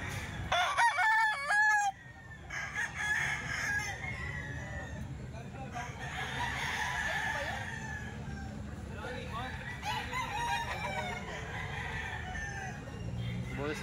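A young Boston Sweater bullstag rooster crows loudly at the start, followed by other fowl clucking and distant crowing around a grotto yard while someone talks over the birds.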